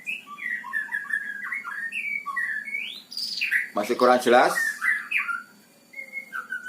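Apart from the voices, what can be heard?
kacer (oriental magpie-robin) singing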